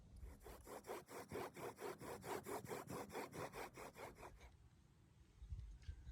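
A bow drill spindle burns in on a wooden hearth board, giving a steady run of about fifteen rhythmic rasping back-and-forth strokes up close, which stop abruptly and leave faint background noise.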